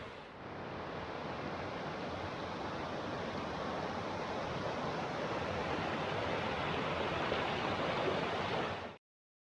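A creek behind the visitor center at Spruce Flats flows with a steady, unbroken rush of water, loud and close, holding an even level throughout before it cuts off abruptly.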